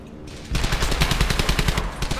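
Rapid automatic gunfire from the World War II shooter Brothers in Arms: Hell's Highway, a dense run of loud, close shots starting after a brief quieter lead-in and rattling on steadily to the end.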